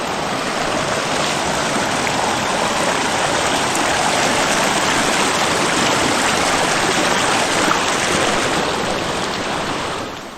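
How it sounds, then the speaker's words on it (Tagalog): Steady, heavy rain pours continuously with a dense, even hiss that never lets up, close and loud throughout. "Ang ulan na ito."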